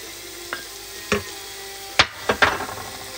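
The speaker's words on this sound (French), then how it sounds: "Donc on va faire revenir le concentré de tomate" Tomato paste sautéed in a pan for a vegetarian pink-sauce spaghetti, with a faint low sizzle under a handful of sharp spoon scrapes and knocks, a few spaced out and then a quick cluster near the end, close with no talking.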